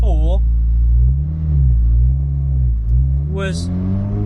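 Inside a turbocharged Honda Civic EJ9 making about 600 bhp, a loud engine drone fills the cabin as the car drives. The engine pitch rises and falls with throttle, and someone talks over the din.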